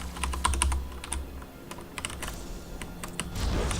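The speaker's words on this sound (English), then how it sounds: "Oh, I hear clicking." Rapid keyboard typing and key clicks during a StarCraft-style team game match, fast bursts of taps at close range with brief pauses, no speech.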